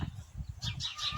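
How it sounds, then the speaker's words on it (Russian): Chickens clucking faintly in a rural village yard, with short bursts of fowl calls repeating in the later part of the clip over low background noise. "Тут курицы кудахтают,"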